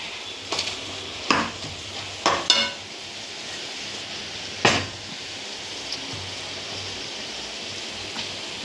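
Mutton lungs frying in a pan as they are stirred, a soft sizzle running underneath and several sharp scrapes and clinks of the utensil against the pan, with quiet pauses between them.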